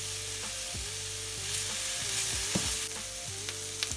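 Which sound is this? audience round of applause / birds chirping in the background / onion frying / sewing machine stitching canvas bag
onion frying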